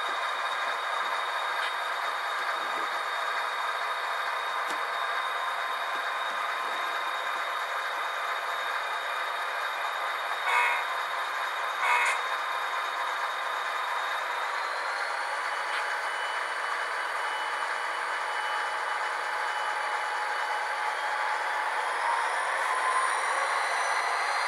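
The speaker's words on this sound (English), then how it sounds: "this freight train about to go west with a pair of" An HO scale model freight train led by a pair of SD45 locomotives with sound decoders runs on a layout's double-track main line, giving a steady mechanical hum and rumble with faint squeals and a couple of brief higher tones, no talking.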